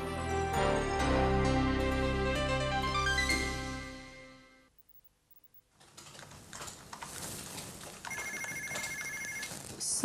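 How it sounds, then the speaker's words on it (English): An office telephone rings repeatedly in a workplace scene, loud and tonal for about four seconds, then a short silence before busy background noise with a steady electronic ringtone pattern resumes; no one speaks over it. "Somebody's phone is ringing."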